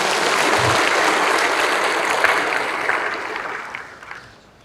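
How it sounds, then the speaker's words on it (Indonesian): Sustained applause from a large crowd at a stadium ceremony for civil-servant appointees in Kupang, a dense, even wash of clapping that holds steady and then thins and fades near the end, with no voices over it. "Tepuk tangan dulu buat kita semua nih."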